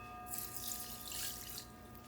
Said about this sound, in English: I'm going to mix that in there with 2 cups of water.